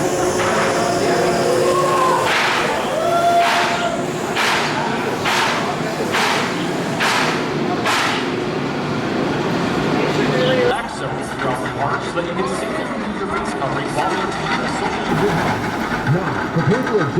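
A roller coaster at Cedar Point makes a continuous loud rumble and roar of the ride. A run of rhythmic clacks sounds early, like a chain lift, and then gives way to rushing wind noise. Riders' voices mix in.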